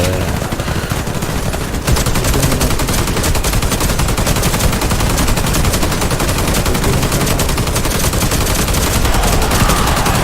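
Video game gunfire in a dense, continuous roar of rapid automatic shots that starts after a short quieter lead-in and stays loud and unbroken to the end.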